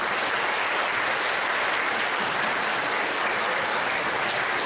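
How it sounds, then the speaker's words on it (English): An audience at an evening school event in Tomah gives a big round of applause for the AV support staff, a dense, even roar of clapping that stays loud from start to finish. "If we could give them a big round of applause for helping out tonight."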